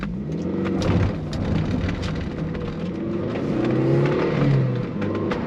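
A 19-year-old Toyota MR2 Roadster rolls over loose gravel, giving a continuous crunching, crackling rumble from inside the car, with steady road noise and some wind.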